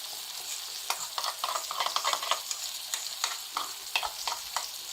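Chicken vegetable pasta with milk and cream is stirred in a pan, giving close, repeated soft scraping and clicking strokes with a light wet bubbling underneath and no talk.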